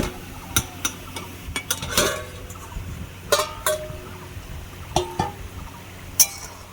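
Metal pot lid lifted off a cooking pot of simmering Malabar spinach stems in mustard, giving several close clinks and clatters scattered over a few seconds against quiet kitchen background.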